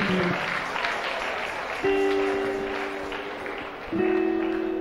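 A church congregation clapping during a worship service, a steady dense patter of many hands at moderate loudness, with sustained electronic organ or keyboard tones sounding underneath.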